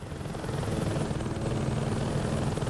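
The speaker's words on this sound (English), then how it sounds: "you got a helicopter coming in. And a lot of times you'll hear the helicopter sound too." In Saints Row 2, a helicopter approaches with a steady, loud rotor thrum and engine whine that fills the whole clip without a break, and no one talks over it.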